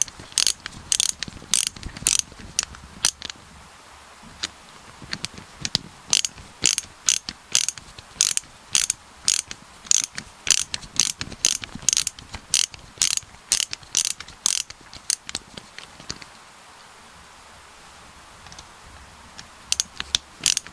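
A ratcheting screwdriver clicks steadily while driving screws during a servo change on a Redcat Everest 10 RC truck: rapid bursts of sharp, close clicks repeating throughout with brief pauses, no talking.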